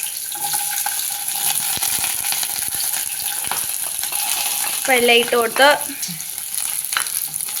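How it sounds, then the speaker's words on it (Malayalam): Mustard seeds and green chillies splutter in hot oil with a steady, close sizzle and sharp crackles throughout. A voice speaks briefly midway. "അത് പച്ചമുളക് ഇടുന്നോണ്ടായി പൊട്ടിത്തെറിക്കുന്നത് കേട്ടോ"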